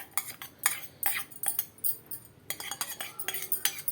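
Spoon stirring spices and ginger garlic paste into a chilli bajji batter in a bowl: quiet, irregular scraping clinks, close and soft, no talk.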